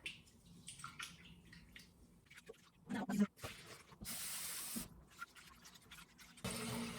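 Rice is rinsed a second time with warm water, with faint splashing and sloshing, a louder gush of running water midway, and a soft hiss toward the end, all fairly quiet.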